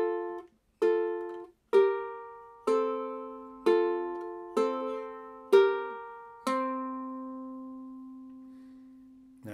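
Plucked two-finger pinch chords of the tune Riding on a Donkey ring out one after another, about eight strums in a steady slow rhythm, each sustaining and decaying, the last chord left to ring long, played alone and clear.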